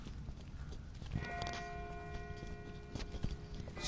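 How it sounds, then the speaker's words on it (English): Distant bell tolling in The Walking Dead game, a few faint resonant strikes ringing out with lingering tones over a quiet outdoor ambience. "That's not the same bell as before. This one's further off."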